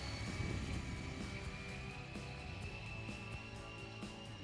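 A BTX 600 snowmobile with a 600 mm wide track runs on snow, its engine giving a steady, continuous drone with a high whine layered on top throughout.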